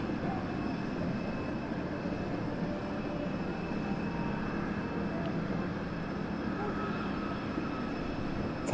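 A Spitfire taxis at Southend Airport, its engine a steady, distant rumbling drone that holds constant throughout without rising or falling.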